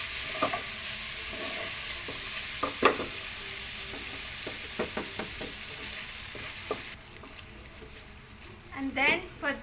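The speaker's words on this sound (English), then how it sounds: "So now we have to put our fish back on the pan. Then give a good mix." Fish sisig being stirred in a frying pan, a continuous sizzle broken by repeated scraping and tossing strokes; near the end the frying fades and a voice speaks.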